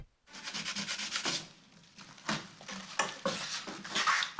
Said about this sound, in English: Sanding down that joint.